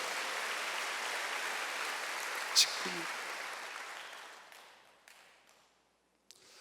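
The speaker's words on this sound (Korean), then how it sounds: "지금이 기회인 걸 믿으시면 박수로 하세요" A church congregation at a Wednesday service claps together, a broad wash of applause that slowly fades away to near silence. A brief spoken word and a couple of small knocks follow.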